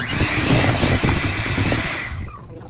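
An electric mixer beating sponge cake batter with a spoonful of white vinegar added, a loud continuous close whirring drone that cuts off near the end.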